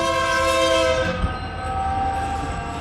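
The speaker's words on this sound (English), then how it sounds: "Nope, it's a freight train." A freight train rumbles past close by, its loud sustained horn blaring over the steady clatter of the cars, then fading to the ongoing roll of wheels.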